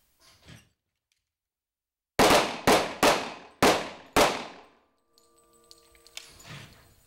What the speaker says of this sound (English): We're going to shoot 3 rounds kneeling position.